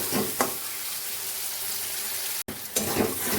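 Dried fish sizzling in a pan with garlic, tomato and ground spices such as turmeric and salt, a steady close hiss of frying with occasional stirring scrapes and one brief dropout partway through.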